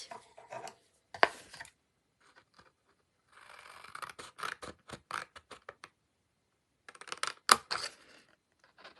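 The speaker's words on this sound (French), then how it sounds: "je vais déjà enlever au ciseau cette partie-là" Scissors snip through cardboard while an advent calendar wreath is being made, giving bursts of close, dry rasping cuts separated by short pauses, with no talking over them.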